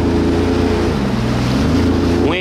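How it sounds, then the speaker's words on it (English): Strong wind roars over choppy water at Long Beach, with a steady low jet ski engine drone and waves slapping throughout. "Windy, water choppy."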